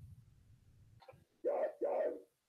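A dog gives two sharp, close barks in quick succession after a low rumbling noise and a small yip, then falls silent.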